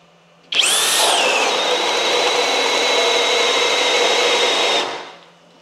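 Cordless Flex right angle drill spins up sharply and bores into wood in turbo mode, a loud steady whirring grind lasting several seconds, then winds down and stops.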